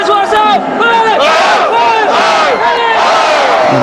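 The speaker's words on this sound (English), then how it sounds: "3 cheers for ourselves, okay? 3 cheers for ourselves!" A water polo team at the SEA Games gives rhythmic group cheers, loud and close, with many voices shouting together in repeated pulses.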